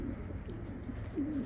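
A two-year-old white racing cock pigeon coos softly on arrival, a low murmuring call rising near the end over quiet background hiss.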